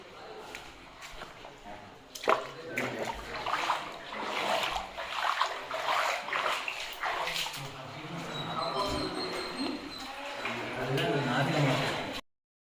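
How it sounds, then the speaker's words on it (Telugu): Splashing and sloshing of feet wading through water inside a flooded Shiva temple in Hampi, with irregular steps and trickling, heard under people talking and a dog barking. "మనం నడుచుకుంటూ వెళ్తే కూడా వాటర్ నుంచి వెళ్ళాల్సి ఉంటుంది"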